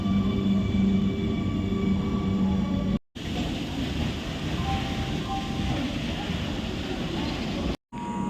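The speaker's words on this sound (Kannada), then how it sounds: "ಟ್ರೈನ್ ಬಂತು." A train pulls into Mangaluru Junction railway station, a continuous rumbling roar with a steady mechanical hum at moderate distance. The sound is interrupted by two brief gaps.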